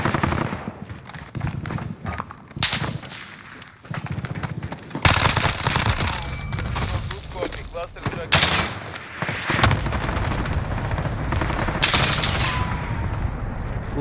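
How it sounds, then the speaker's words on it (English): Rapid automatic gunfire crackles in the Warzone video game in dense, overlapping bursts and single shots, loud and close, with a player talking over it. "Who's shooting me?"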